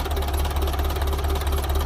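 A tractor engine runs steadily at a low idle-like throb, close and loud, with a continuous rhythmic knocking pulse and no voices over it.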